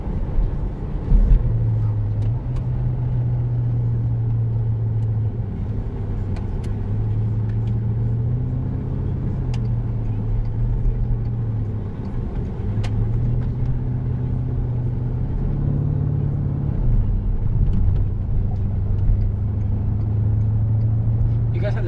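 A Porsche Cayenne Turbo fitted with a Tubi exhaust drives along, its loud, steady low engine drone rising and falling with throttle changes throughout, while people talk inside the cabin.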